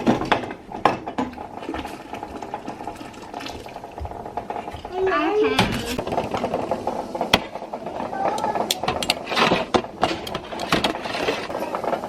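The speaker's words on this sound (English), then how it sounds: "we're going to carefully get the jars out of our boiling water" Glass jars clink and knock as they are lifted out of boiling water and filled with spiced pear jam, giving scattered sharp taps and clatters over a simmering bubble while people talk throughout.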